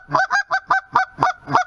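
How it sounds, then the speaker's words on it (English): Seven quick, clipped clucks on a Haydel H2 short reed Canada goose call in a steady rapid chatter, loud and close with no other sound. "the excited chatter of just straight clucks"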